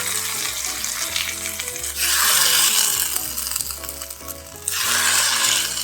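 Hot coconut-oil tempering of mustard seeds, dried red chillies and curry leaves sizzles loudly into a green-grape pachadi curry, with bursts of crackling frying and stirring swelling and easing across the clip.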